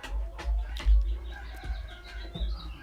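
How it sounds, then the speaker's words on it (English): Roosters and other fowl clucking and calling in the background of an outdoor gathering, scattered short calls over a low rumble of wind, with no talk. "Many of us can hear the roosters in the background"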